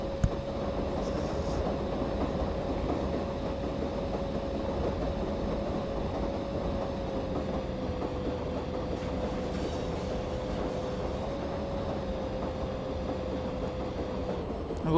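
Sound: Karnataka Express train running

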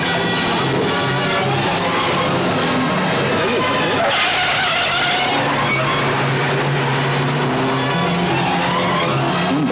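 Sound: jeep being driven fast

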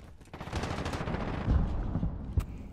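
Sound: shotgun gunfire in video game Call of Duty Modern Warfare

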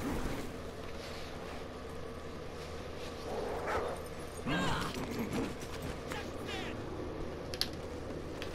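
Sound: dog barking in the video game Call of Duty Ghosts

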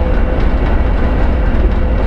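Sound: ChME3 shunting locomotive pulling ten wagons uphill

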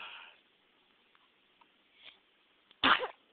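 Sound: sneeze

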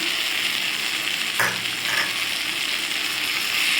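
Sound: sautéing grated coconut with onion and tomato in pan

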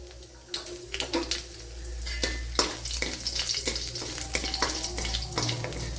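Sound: dried red chillies added to hot coconut oil with mustard seeds

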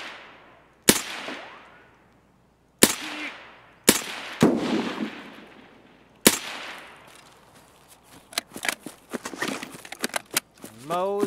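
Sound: automatic Mosin rifle gunfire in Escape From Tarkov video game

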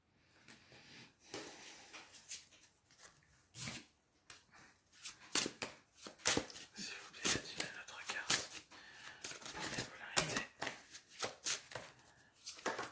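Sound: shuffling and handling cards

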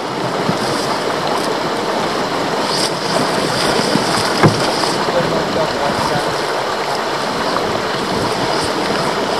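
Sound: small river rapids flowing

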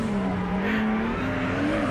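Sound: car drifting with tire squeal

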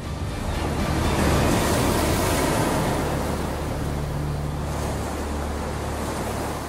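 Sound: huge tsunami wave surging inland

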